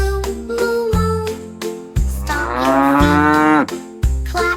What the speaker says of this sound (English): Baby cow, moo, moo, moo.